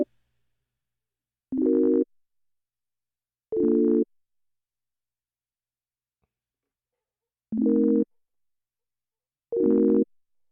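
Synth driven by a MIDI sequence in Arturia Pigments plays four short, loud chordal tones about two seconds apart, each lasting roughly half a second, with silence between.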